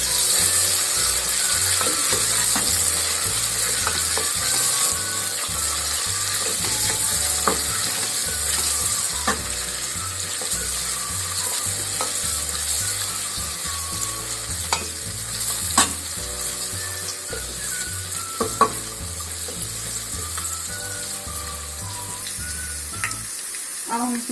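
Urad dal base frying and browning in a pan with steady stirring for dhaba-style mash ki daal: continuous close sizzling with repeated scraping strokes, and no talk.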